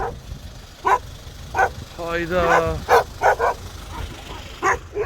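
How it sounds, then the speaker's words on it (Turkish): A litter of abandoned puppies barking and yipping in repeated high bursts, with a drawn-out whimpering yelp in the middle, heard nearby outdoors while a person talks. "Allah aşkına bir sürü yavru köpek atılmış."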